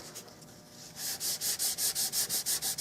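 Sandpaper rubs over super glue filler on a Winchester Model 100 rifle, first in light scuffing, then in about a dozen steady, even back-and-forth strokes, close and loud with no talk.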